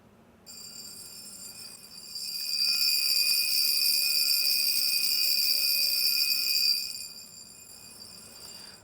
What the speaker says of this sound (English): set the time to where the alarm is, and then you'll be able to hear it go off